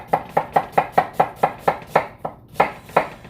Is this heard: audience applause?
no